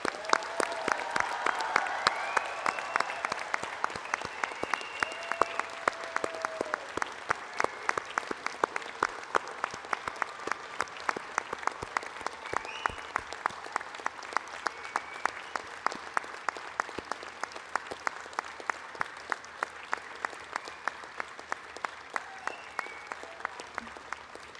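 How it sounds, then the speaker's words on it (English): An audience applauds graduates at a university science, medicine and health graduation ceremony, producing sustained, even clapping throughout that sounds moderately distant in a large hall, with faint voices early on. "please join me in congratulating our graduates by giving them a warm round of applause"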